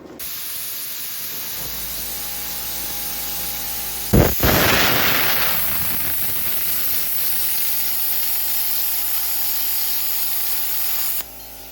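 A bestarc BTC500DP plasma cutter cuts through metal with a steady, loud hiss and airy spray lasting around ten seconds, a sharper burst near the middle as the arc pierces, then a sudden stop.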